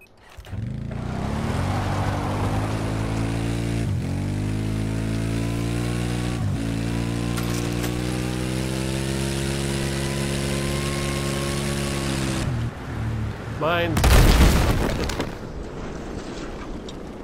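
Vehicle engine in the Battlefield 4 game, driving along: a steady droning hum with harmonic tones climbing gradually, cut by a few brief dips, then a loud noisy burst near the end, no talk.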